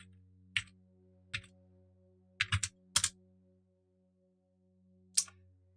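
Short bursts of keystrokes on a computer keyboard, spelling out a folder name. Quiet clicks come in small clusters with pauses between them and one last lone tap, over a low steady hum.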